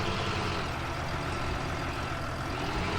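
A truck engine in Farming Simulator 17 runs with a loud, constant grindy drone and heavy low rumble, steady throughout with no voices.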